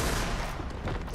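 A rifle firing in Alan Wake 2, a dense, loud burst of gunfire packed into about a second, harsh and close with no voices.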